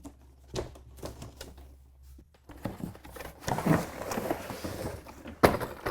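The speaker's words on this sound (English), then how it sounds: "All we need is something to cut some of the packaging, the zip ties. So I have some snips here." Hand snips clip through zip ties on the packaging of a sixthreezero Explore your Range 3-speed bike: a string of sharp, close snaps and clicks, with rustling and shuffling of packaging growing busier toward the end.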